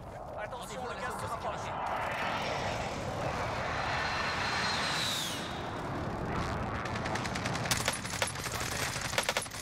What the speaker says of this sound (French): Position marquée, frappe aérienne, détruisez ces enfoirés.